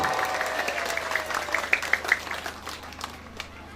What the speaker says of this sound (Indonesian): Tepuk tangan untuk ustadz-ustadz di Kadohau